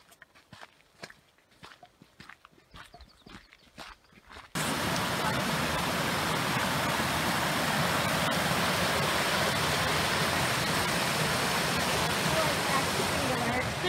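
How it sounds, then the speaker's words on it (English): A small river flows beside a hiking trail in Bells Canyon near Salt Lake City, Utah. Footsteps come first, then a loud, steady rushing of water abruptly fills in and continues evenly. "So you can hear the little river off to the side."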